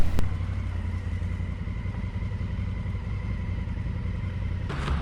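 Motorcycles arriving at a campsite in Thonon-les-Bains during a Route des Grandes Alpes trip, a steady low engine rumble close by with a brief sharp noise near the end.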